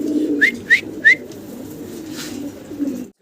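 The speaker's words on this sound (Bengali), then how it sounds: "দর্শক আমরা ব্ল্যাক কালারের বাইরে এক জোড়া স্প্যানিশ কবুতর দেখতে পারতাছি" A pair of Spanish pigeons at a pigeon market coo in a low, continuous murmur, broken by three short rising whistles and a later faint call, close and clear with no talk.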